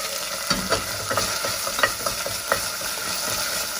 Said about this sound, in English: You stir fry until you can smell some curry is already cooked, some certain smell.